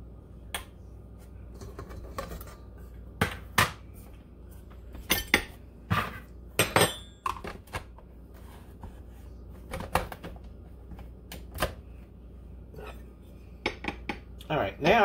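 A utensil mixing sweet batter in a bowl, with irregular sharp clinks and scrapes against the bowl between quiet pauses.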